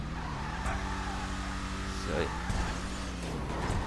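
Declasse Tampa GT in GTA 5 popping a wheelie, tires squealing and skidding over a steady engine drone, with someone talking throughout.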